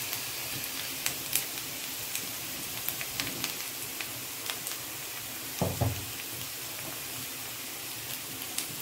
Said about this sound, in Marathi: तर आता व्यवस्थित असं मस्त असं व्यवस्थित भाजून घ्यायचा कांदा